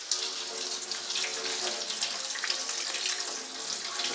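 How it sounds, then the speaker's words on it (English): Tap water runs steadily from a faucet over cooked instant noodles in a sink, a continuous close-up splashing rush with no speech. "So run it over lukewarm or cold water"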